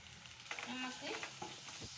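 Onions fry in a pan along with garlic and shallots, making a close crackling sizzle with a few stirring scrapes over two seconds.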